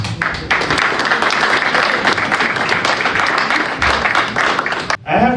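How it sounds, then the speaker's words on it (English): Audience applause at a Black History Month community celebration: sustained, dense clapping from a large crowd, steady and loud for about five seconds before breaking off abruptly. "I invite you again to give him a round of applause."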